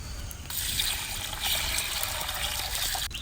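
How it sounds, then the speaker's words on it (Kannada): Water poured into a pot of washed ingredients for a quick pressure-cooker breakfast, a steady close splashing trickle running for about three seconds with no talk. "ಇದಕ್ಕೆ ನೀರು ಹಾಕುವ"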